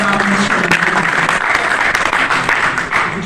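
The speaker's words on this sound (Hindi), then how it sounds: "तालियां हो जाए।" An audience at a national honour award ceremony claps loudly and continuously, a dense, sustained burst of applause filling the hall.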